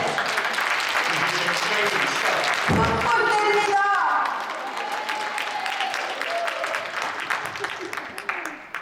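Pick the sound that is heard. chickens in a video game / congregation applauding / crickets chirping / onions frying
congregation applauding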